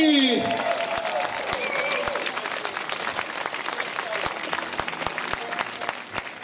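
Audience at a Czech bluegrass festival, Banjo Jamboree Čáslav 2017, breaks into loud, sustained applause and cheering that fades slightly over several seconds, with scattered sharp claps throughout.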